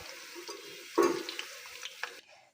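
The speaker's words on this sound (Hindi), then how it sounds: "प्याज को अच्छे तरीके से ब्राउन कर लेना है।" Onions browning for beef karahi in a pan, a soft steady sizzle with a louder burst of stirring partway through, no talking.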